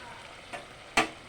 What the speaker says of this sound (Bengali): একটু চাল কুমড়া আর ডালটা দিয়ে দেবো সাথে দিয়ে ভালোভাবে নাড়াচাড়া করবো